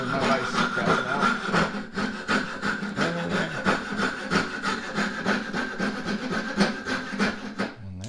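A hand saw cutting a curve in a board held in a vise, with steady rhythmic back-and-forth strokes that rasp continuously and close up for the whole stretch.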